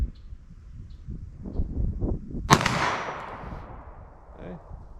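A single sharp pistol shot from a handgun with a 3.2-inch barrel at a ballistic test: one loud crack with a trailing echo midway, framed by quieter talk and outdoor shuffling before and after.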